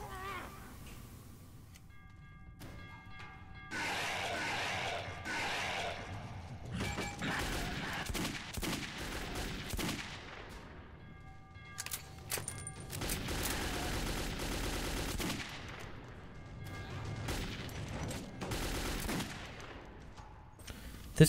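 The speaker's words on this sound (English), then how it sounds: "This gun seems very, very good." Bursts of gunfire from a weapon in the shooter game Metro 2033, rapid volleys broken by short pauses, with someone talking at times.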